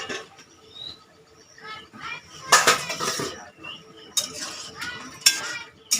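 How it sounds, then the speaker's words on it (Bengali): The metal lid comes off a simmering pot of crab curry with a few sharp clanks and clinks scattered across several seconds, close and bright, separated by quieter stretches of faint background bubbling. "এবার ঢাকাটা খুলে নিচ্ছি।"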